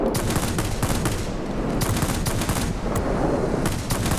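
Aircraft machine guns in World of Warplanes fire in rapid, continuous bursts, loud and close, layered over a steady engine drone, with brief gaps between volleys.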